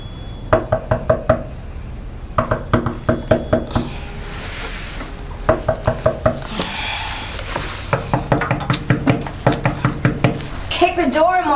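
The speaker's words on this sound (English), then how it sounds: "Kick the door in, why don't you?" Loud, forceful knocking on a door comes in repeated rapid bursts of several hard raps, separated by short pauses and interspersed with shouting voices.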